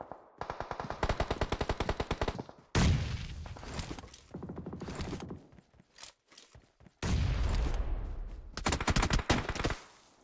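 Bursts of automatic gunfire from the mobile battle royale game PUBG Mobile during a competitive scrim match, with rapid rattling volleys, loud close sprays and brief pauses between them across the stretch.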